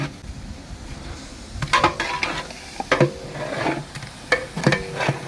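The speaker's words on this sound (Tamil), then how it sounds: "நல்லா கிண்டிங்க மச்சான் மச்சான் கிண்டணும்" A big pot of chicken gravy with ginger paste and garlic, 15 kg of chicken, is stirred hard with a ladle, giving repeated scraping, clanking strokes over a steady simmering sizzle, close and fairly loud, with no talk.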